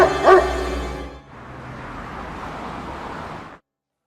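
A dog bark sound effect in a comedy drama, a short sharp yap or two at the start, followed by a steady wash of noise before it cuts off.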